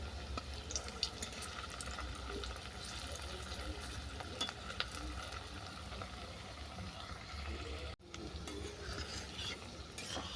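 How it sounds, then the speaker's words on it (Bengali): Watermelon muitha dumplings fry in oil until brown, giving a soft, steady sizzle with occasional stirring scrapes, faint and continuous throughout. "এগুলোকে উল্টো পাল্টো বাদামি করে ভেজে নেব।"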